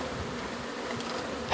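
Honeybees from a cut-out colony in Lake Wales, Florida buzz in a steady, dense drone throughout, close to the microphone with no talking, swelling slightly louder at the very end.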